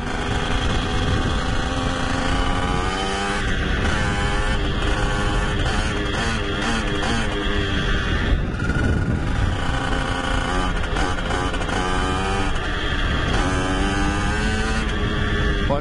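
A LEM LX4 mini motocross bike's small engine runs steadily and loudly after a clutch repair, revving up and down throughout with no pauses.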